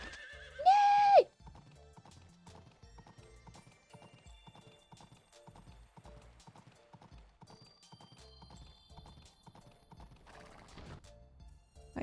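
Horse in the video game Story of Seasons: Pioneers of Olive Town gives a loud, high neigh, then hooves clip-clop in a steady quick rhythm for several seconds, softer and unaccompanied by speech.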